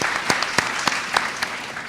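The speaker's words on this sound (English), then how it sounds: "Please give them a round of applause to welcome them" Audience applause at a Brooklyn Book Festival panel, a thinning round of clapping with a few distinct louder claps standing out against a softer spread of hands.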